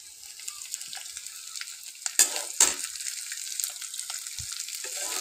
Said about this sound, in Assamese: অকণমান ভজাৰ পিছত মই ইয়াতে তিতা কেৰেলাখিনি ঢালি দিছোঁ।